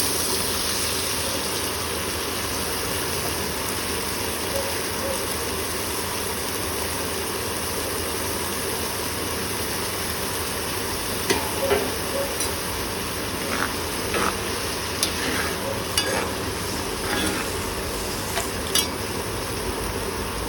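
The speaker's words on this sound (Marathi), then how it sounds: "फोडणी छान गरम झालेली आता वाल टाकणार आहोत आपण" Hulled val beans dropped into a hot oil tempering for Maharashtrian valachi bhaji, giving a steady, fairly loud frying hiss that runs the whole time, with a few soft clinks toward the end.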